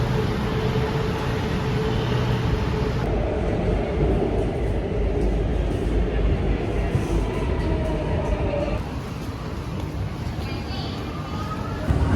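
Steady rumble of a Bangkok metro train running near Hua Lamphong, with continuous rail and motor noise filling the clip and a brief voice-like murmur in places.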